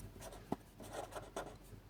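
A pen scratches on paper during a Class 6 maths lesson on geometric constructions, giving a few short, soft strokes with one sharper tap, close up and alone.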